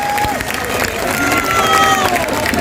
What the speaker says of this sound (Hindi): जोरदार तालियों के साथ उनका स्वागत हो जाए।